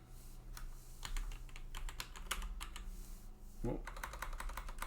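Rapid bursts of keyboard typing, close and fairly loud, with clusters of keystrokes separated by short pauses; a brief low voice-like sound occurs midway.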